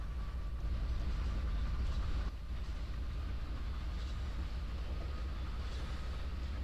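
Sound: oil train in Trainz 12 video game

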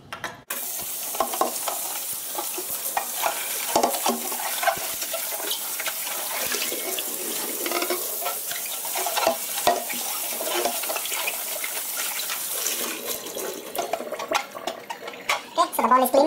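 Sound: washing an Aerogarden Bounty bowl under running water

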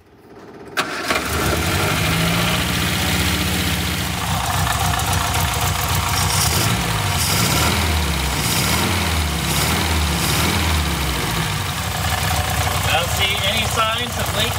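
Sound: car engine idling

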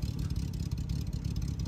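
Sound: Jaguar 3.8 engine revving on 1000 Miglia car

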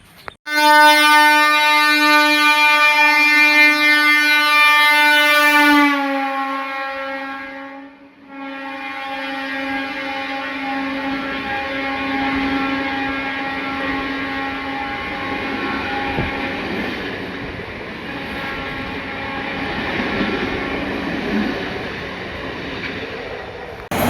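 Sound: train approaching and passing with horn

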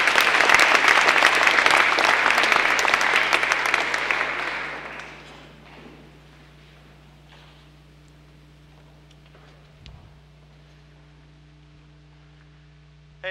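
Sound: audience applause welcoming speaker Jeremy Blum at TEDx Cornell

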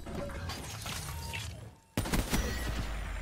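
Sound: gunfire in the video game Call of Duty Black Ops 3

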